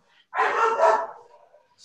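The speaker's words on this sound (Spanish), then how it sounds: "Creo que se oye un poco de perros" A single dog barks once at mid distance, a short loud bark trailing off, with a fainter sound at the end.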